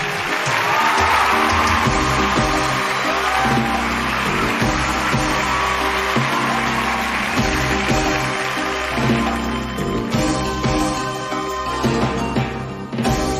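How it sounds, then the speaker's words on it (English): Sustained applause from an audience for semifinalists at a competition, a dense wash of clapping mixed with rhythmic background music, continuing steadily throughout. "let's have a round of applause for our semifinalists."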